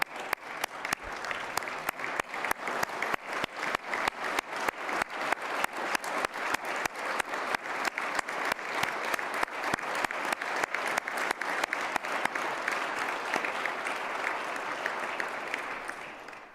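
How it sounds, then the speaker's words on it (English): Sustained applause from a large audience at a state address in a legislative chamber, steady dense clapping that holds for the full stretch before fading slightly at the end, no talk over it. "Why don't y'all stand up so we can give you the applause that our heroes deserve"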